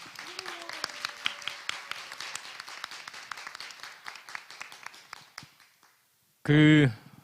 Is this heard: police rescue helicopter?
no